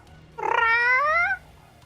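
A person imitates a realistic cat meow, one drawn-out rising and falling call of about a second, loud and close, with no other talk.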